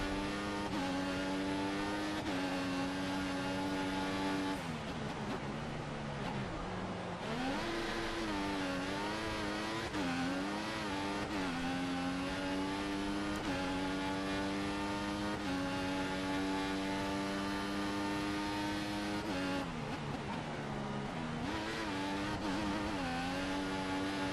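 An F1 2014 race car in the video game screams through its gears, the high-pitched engine rising and falling repeatedly with brief lifts and re-accelerations, loud and continuous throughout.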